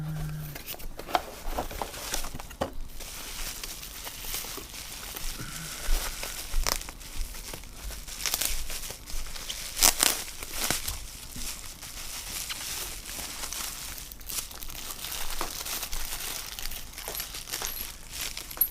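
Packaging crinkles and tears as a Harley-Davidson Bar & Shield self-locking fuel cap is unboxed, irregular rustling and crackling bursts up close with occasional sharper rips and handling knocks, no talk.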